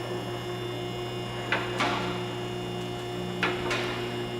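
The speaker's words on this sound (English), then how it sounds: "The clicking noise you're hearing is the locks." Safety locks on a vehicle hoist click as a car is raised, a few sharp metallic clicks in pairs at steady intervals over a constant electrical hum from the lift motor.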